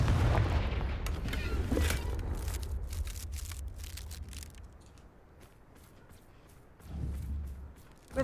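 In Hogwarts Legacy, the Confringo spell sets off booming blasts: a heavy rumbling impact at the start, a series of sharp cracks, then another deep boom near the end, loud and close.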